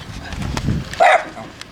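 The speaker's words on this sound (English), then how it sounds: "Don't bark at Farmer P." A dog barks during a farmyard visit, a short sharp bark rising loud at about the middle of the clip amid muffled movement and background noise.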